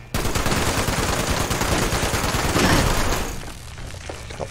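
An automated turret gun in Fallout 76 fires a dense, loud, continuous burst for about three seconds, then the noise tapers off into quieter background.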